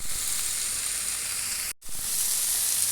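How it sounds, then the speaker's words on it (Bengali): Beef with red amaranth sizzling in a hot pan, a continuous loud hiss broken by one brief gap before it resumes. "শুকিয়ে যাওয়া পর্যন্ত একদম ভাজা ভাজা করে নেব।"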